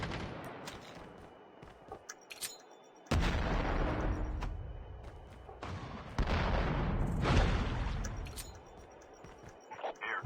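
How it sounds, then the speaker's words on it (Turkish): Tank bombardment in Call of Duty Mobile: heavy booming explosions and gunfire bursts land in loud waves, with quieter stretches of scattered shots between. "Tank da bombalıyor."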